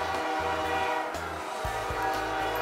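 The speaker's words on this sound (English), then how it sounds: "And here comes the train." A toy or model train runs along the track of a large railroad park display with a big mountain scene, giving a steady rolling clatter with a repeated rhythmic low pulse throughout.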